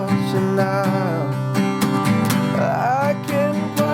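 Acoustic guitar playing the bridge of a song, strummed chords with a voice singing along, steady rhythm, close and clear.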